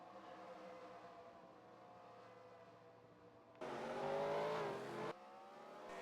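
A NASCAR race car engine in a racing video game hums steadily at a low level, then a louder burst of revving swells for about a second and a half before dropping back to the quieter drone.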